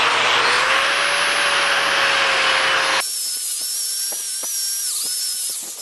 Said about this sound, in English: I'm going to hit this with a wire wheel and hopefully try to clean some of that off